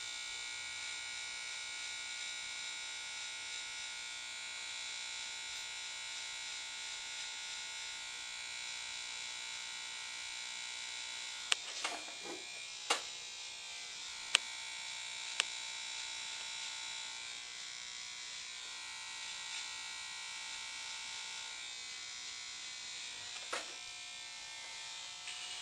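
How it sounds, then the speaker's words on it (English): An electric hair clipper buzzes continuously at close range while cutting a taper, a steady high whine with a few brief clicks and knocks as it moves. "I'm putting the clipper about midway."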